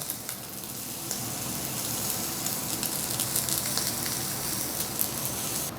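A sirloin steak, being cooked well done, sears in a hot pan as its side is pressed down, giving a steady, close, loud crackling sizzle with no break throughout.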